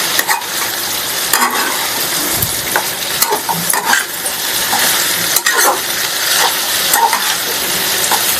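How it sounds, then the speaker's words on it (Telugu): Potatoes stirred in a hot pan for a crispy aloo fry, with a steady sizzle of frying throughout and repeated scraping and clinking strokes of a spoon against the pan, close up with no talk. "మనం ఇప్పుడు ఆలుగడ్డ వేయాలి. ఆలుగడ్డ కొంచెం ఇట్లా కలపండి."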